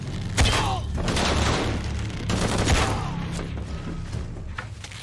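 Rapid bursts of gunfire from the video game Shadow of the Tomb Raider, with dense overlapping shots and impacts forming a loud, continuous fusillade across the whole stretch, with no voices over it.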